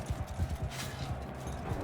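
Horse hooves clip-clop steadily at a walking pace in the Mount & Blade II Bannerlord video game, a quiet, low rhythmic thudding without talk.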